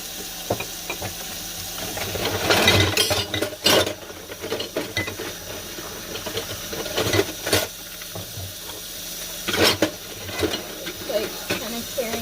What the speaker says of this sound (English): I wash the dishes really fast and turn the water down